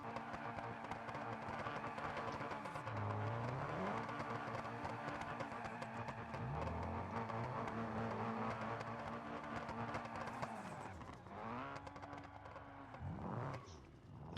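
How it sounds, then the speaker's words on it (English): Cars in BeamNG.drive do burnouts and drifts, with engine tones that rise and fall through repeated revs. The sound is faint and continuous, with no talk. "Now we're gonna do burnouts and drifts."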